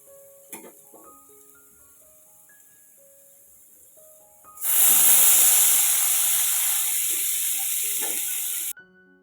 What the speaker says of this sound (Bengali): আর এখানে আলুটা ভাজা হচ্ছে।